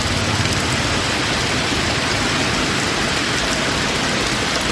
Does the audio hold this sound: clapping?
no